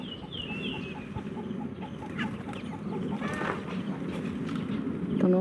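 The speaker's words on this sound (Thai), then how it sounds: "บรรยากาศสุดยอด ไก่ขัน" A rooster crows and chickens cluck in a rural Thai backyard garden full of vegetables and herbs, heard at a moderate distance over a steady outdoor village background.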